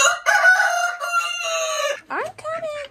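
A rooster crows loudly and close, a long strained call, followed by a couple of shorter rising crows with clucking hens around.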